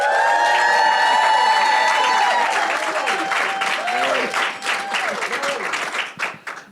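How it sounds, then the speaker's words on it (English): A live audience bursts into loud, sustained applause mixed with whoops and cheers, the clapping staying dense before gradually thinning out toward the end. "have the crowd introduce themselves with a little noise"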